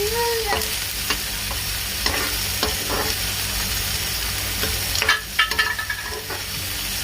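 Onions sizzling and frying in a pan for egg bhurji, stirred with a spatula, giving a steady hiss with sharp scraping clinks against the pan, busier toward the end.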